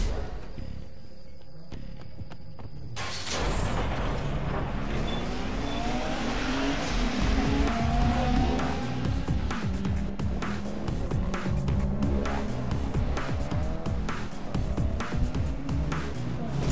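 Racing game car drifting through turns in Need for Speed Underground 2, loud engine revving with rising and falling pitch and tire squeal throughout, starting abruptly after a few seconds of quiet.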